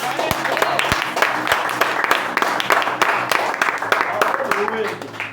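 A church congregation claps in a lively, continuous burst at a worship service, sharp individual claps standing out near the start, with voices and faint music mixed underneath.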